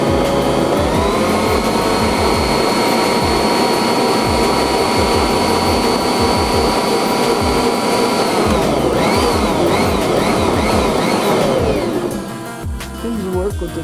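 Bosch Universal Plus stand mixer running with a dough hook in a stainless steel bowl, a loud, continuous motor whir whose pitch climbs and then winds down near the end, with voices partly audible underneath.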